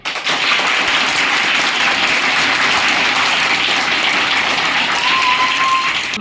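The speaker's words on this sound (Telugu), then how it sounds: "టీచర్స్ అందరికీ, హెడ్ మాస్టర్ గారికి మీరు అందరూ గట్టిగా చప్పట్లు కొట్టాలా" A big group of schoolchildren at a Children's Day event claps loudly and continuously for their teachers and headmaster, a dense, even roar of applause.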